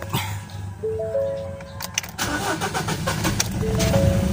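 A Ford Ranger 2.2L diesel engine with a white-smoke, misfiring, hard-start fault cranks briefly, then catches and settles into a steady idle, heard close up without talk.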